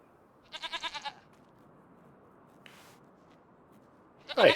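A few goat bleats in a farming video game (Farming Simulator 25) over a low, steady ambient hum: one wavering cry early, a faint one in the middle, and a louder bleat at the end.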